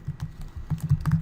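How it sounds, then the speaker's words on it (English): Quick clicks from a computer keyboard as someone types, a short burst of irregular close keystrokes with soft thumps, alone with no talking. "we type a dynamic link here"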